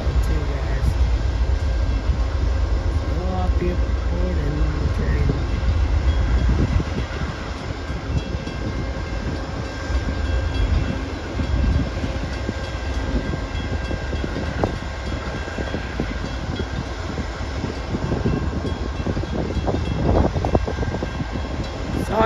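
An Amtrak P42DC diesel locomotive runs with a steady rumbling drone on a windy day, heard close up for about twenty seconds while someone speaks intermittently over the engine noise.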